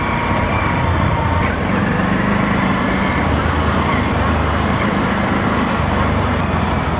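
Honda Super Cub motorcycle riding through city traffic, a steady loud road roar with engine drone and passing vehicles filling the whole stretch, no pause in the noise.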